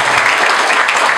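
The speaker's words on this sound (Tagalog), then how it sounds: "Palakpak naman dyan." Audience applause after a remark during a tech Q&A session, a brief burst of steady, fairly loud clapping from a group of people.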